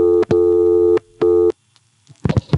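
A telephone reorder tone from an NX1 Crossbar exchange heard on a payphone, loud steady buzzing bursts with short gaps, followed by silence and then some faint clicks and handling noise.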